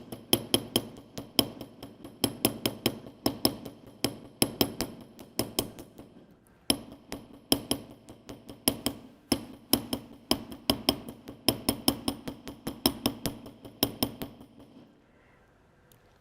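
A small metal jewelry square being textured with the wider end of a hammer: rapid, bright metallic taps in a steady rhythm, close and loud, with one brief pause before the tapping resumes and then stops.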